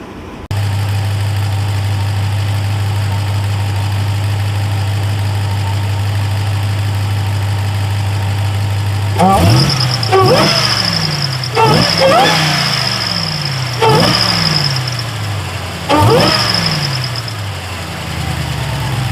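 An 800-horsepower Ram TRX truck engine idles with a steady low rumble, then revs several times, each rev joined by a high squeal from the pulley and belt area.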